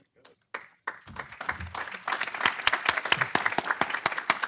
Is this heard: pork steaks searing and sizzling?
no